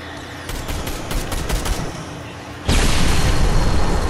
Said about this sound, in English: I think their partner is trying to shoot me.